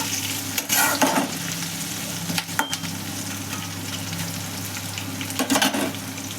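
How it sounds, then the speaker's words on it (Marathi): Chopped vegetables and tomato sauté in a pan on high flame for pasta, giving a loud, continuous sizzle with bursts of spoon scraping at intervals, close up and without speech. "मोठ्या गॅसवर आपल्याला फक्त 1 मिनटं ह्या भाज्या सगळ्या परतून घ्यायच्या आहेत।"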